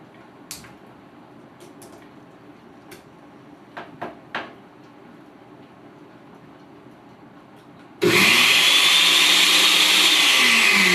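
A blender on a robotic bartender kicks in loudly after several seconds of quiet room noise with a few faint clicks, then runs steadily with a high whirring roar.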